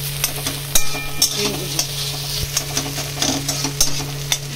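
Whole cinnamon and cardamom pods fry in hot oil for fried rice with a loud, close sizzle and crackle, pierced by repeated clacks and scrapes of a spoon against the pan over a low steady hum.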